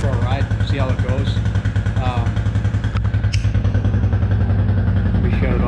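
A 2004 Suzuki LTZ250 ATV engine idles close by with a steady low, lumpy throb and mechanical clatter, while someone talks over it for most of the clip.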